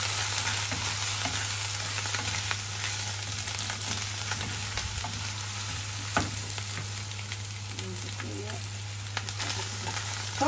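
Ginger and garlic paste fries in a pan with a dense, close, continuous sizzle, scraped and stirred at intervals over a low steady hum, with faint voices in the background.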